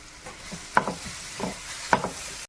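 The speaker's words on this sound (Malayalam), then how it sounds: "ഏത്തയ്ക്ക ഇട്ടൊന്ന് നമുക്കൊന്ന് നെയ്ക്കകത്തുനിന്ന് വരട്ടിയെടുക്കാം" Plantain sizzles steadily in hot ghee, with a few sharp scraping stirs of a spoon against the pan, close and clear.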